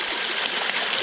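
Mud and sludge poured into water make a loud, steady rushing splash, a close continuous gush of liquid without pause.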